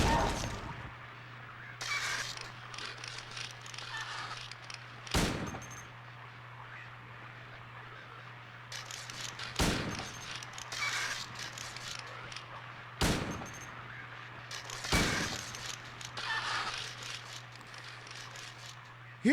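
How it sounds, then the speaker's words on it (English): 9mm handgun shots in the Silent Hill 2 video game, five or six sharp, isolated bangs spaced a few seconds apart over a steady low hum and faint background noise. "In what universe does a 9mm handgun sound like that?"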